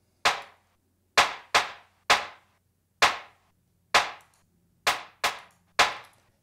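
Nine sharp, gritty claps, bitcrushed and saturated for UK garage drums, hit one at a time in an uneven pattern with quick decays and a faint low hum between them.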